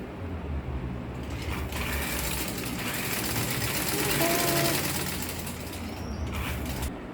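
Domestic sewing machine stitching ankara fabric pieces together for a cap, a steady fast mechanical whirr with rattling needle clatter running close and loud throughout, slowing slightly near the end.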